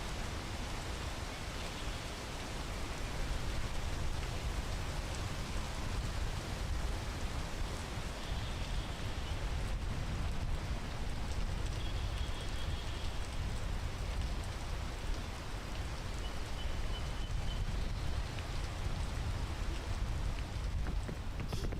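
Steady rain hisses in a video game with a dense, even wash of drops that continues unbroken for the whole stretch, moderately loud, with no talking.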